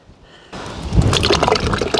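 Fluid is poured into the steering system of an old JUMZ tractor outdoors on a windy day. After a quiet start, a steady, close gurgling pour with splashy trickles begins and continues throughout.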